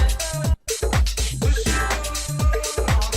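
Full mixed music track glued together by a Waves API 2500 compressor set to the Drew Levine Modern Mastering Glue preset, dense and steady with punchy low-end beats and a brief dropout near the start.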